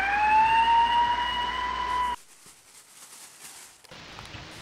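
An ambulance siren wails loud and close with a steady rising tone, then cuts off abruptly, leaving a quiet background with faint noise.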